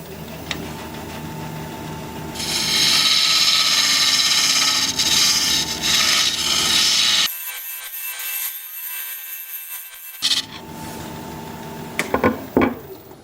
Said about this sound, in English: I'm going to switch to a 1/2 inch swept back bowl gouge to work on the side here.